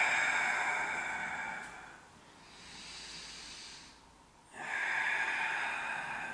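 Long, steady breaths out while stretching hips and hamstrings, two drawn-out hissing exhales separated by a quieter pause, fairly soft and close.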